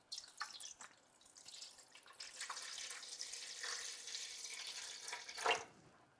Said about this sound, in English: I'm just going to put some water right now in the inner acrylic tray.